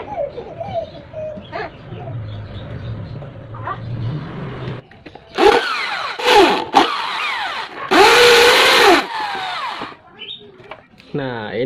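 A power drill whirs loudly in short bursts while drilling out fasteners on a washing machine, its motor revving up and stopping, after a stretch of quieter background sound.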